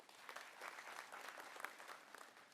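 An audience at a memorial ceremony in Bidar breaks into applause, a dense, steady patter of many hands clapping, heard faint and distant throughout.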